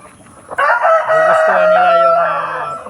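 A rooster on a provincial farm crows loudly and close, one long sustained call held for about two seconds after a brief cluck from the chickens.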